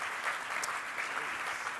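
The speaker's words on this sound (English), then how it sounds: "Please, a warm round of applause for him." An audience at a public health forum event applauds WHO Director General Tedros, a dense, even wash of clapping from a large indoor crowd, moderately distant and sustained throughout.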